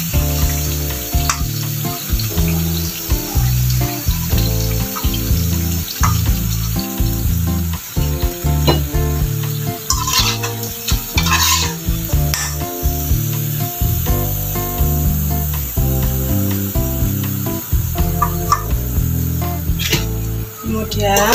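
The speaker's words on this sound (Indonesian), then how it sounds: "Kemudian sisa adonan kita goreng lagi ya guys, sampai adonannya habis." Vegetable fritters (bakwan) fry in hot oil, the sizzle loud and continuous, with frequent scraping and stirring clatter from a utensil throughout.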